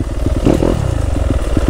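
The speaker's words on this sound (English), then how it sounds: "Look at a little man on the dirt bike." A Yamaha YZ250F dirt bike engine rumbles loud and close off-road, with pulsing, throaty firing that swells briefly as the throttle opens, then settles back to a rough, uneven idle-like chug.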